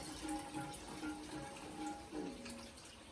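Water pours into a pot of rice for biryani, a faint, continuous trickle and splash with gentle fluctuations, no voices.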